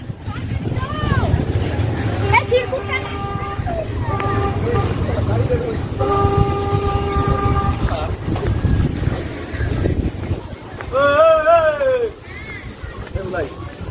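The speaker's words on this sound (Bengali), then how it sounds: "দেখতে পাচ্ছ এই আসছে সামনে, দেখো কত সুন্দর লাগছে টয় ট্রেন।" A toy train in Motijheel park, Murshidabad, approaches, sounding three drawn-out horn-like tones through strong wind noise while people talk nearby.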